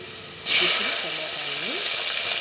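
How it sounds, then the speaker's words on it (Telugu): Onions fry in a pan for a Telugu small-fish curry with tamarind-leaf powder. After a brief quiet moment a loud, close hiss of sizzling bursts in and holds steady, with a faint voice underneath. "ఆనియన్ బాగా వేగాయి"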